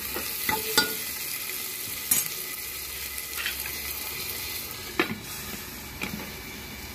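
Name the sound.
frying chopped tomatoes while stirring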